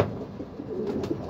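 Soft, low cooing from racing pigeons back from a training flight murmurs up close for a moment, a gentle throaty burble with faint ambient hum behind it.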